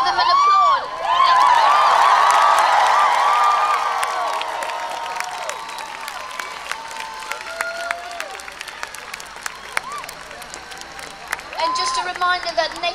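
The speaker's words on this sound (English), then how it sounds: "We'll give them an applause." A crowd at an outdoor climate strike rally breaks into loud applause and cheering with whoops, which peaks early and then thins into scattered claps under background chatter.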